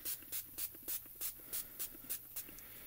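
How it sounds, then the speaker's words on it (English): Short bursts of colour mist spray hiss in a steady rhythm, about ten quick puffs onto a paper tag, close and fairly quiet, with no talking. "I'm going to take the lightest color and I'm going to spray the whole tag."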